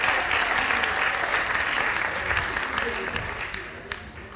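Audience applause at a debate on artificial intelligence, a full, steady round of clapping from a hall crowd that gradually thins and fades toward the end.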